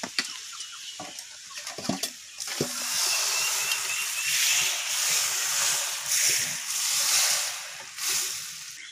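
Mango pieces being stirred in hot oil for mango pickle, a steady sizzling hiss with soft wet sloshing and a few sharp scraping knocks at the start, close and moderately quiet.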